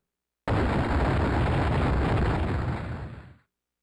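Cannon fire in Final Fantasy IV erupts as one sustained roaring explosion, loud and dense, holding steady for about three seconds before cutting off abruptly.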